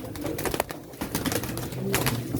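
Pigeons coo nearby in soft, repeated low calls, several birds overlapping with rustling and flapping against a busy outdoor background at a pigeon auction.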